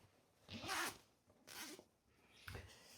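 Zipper tape is pulled apart while an outdoor footstool cushion is being made, giving three quick, close, raspy zips separated by short pauses.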